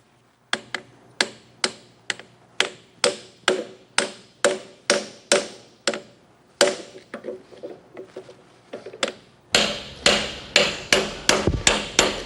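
Hammer blows drive a hubcap in square with a special driver, about twenty sharp metallic strikes in a steady rhythm, close and loud, growing heavier toward the end.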